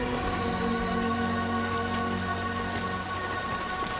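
Steady rain falls in the video game Death Stranding 2, a dense, even patter of drops on surfaces with a low rumbling bed underneath, continuous and fairly close, with no voices.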